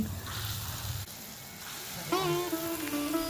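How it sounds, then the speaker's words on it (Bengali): Mango fritters bubble and sizzle in hot oil over low to medium heat, a steady moderate hiss that shifts partway through, with a faint voice near the end. "এক এক করে ফুলুরিগুলো তেলের মধ্যে ছেড়ে দেব"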